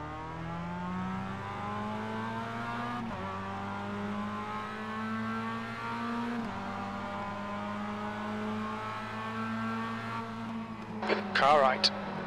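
A Mazda MX-5 race car engine drones steadily at the race start at VIR, heard from inside the car with pitch rising through gear changes and a brief harsh burst near the end.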